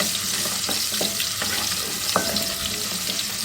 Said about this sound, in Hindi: इसको अच्छी तरीके से 1 मिनट के लिए फ्राई कर लेंगे